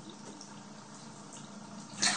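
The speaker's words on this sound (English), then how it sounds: "Pour a gallon of water in there." A gallon of water poured into a Frugal Washer, a hand-cranked spin washer, makes a low, steady sloshing and trickling, with a brighter splash near the end.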